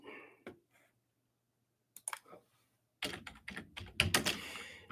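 Keyboard typing in two bursts, a short run of soft clicks near the middle and then a louder, denser flurry of keystrokes toward the end, close and clear with no talking.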